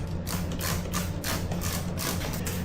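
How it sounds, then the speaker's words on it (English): Soapy water sprayed onto a tire for lubrication during an old-school tire repair, a rapid series of close, hissing spray bursts repeating in a steady rhythm over a low hum. "so we'll spray that on here."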